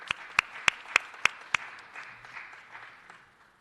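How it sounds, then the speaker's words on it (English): Applause at a city council meeting: several sharp, loud claps in a quick, evenly spaced run, followed by a softer scattered patter that fades out. "Let's give them another round of applause."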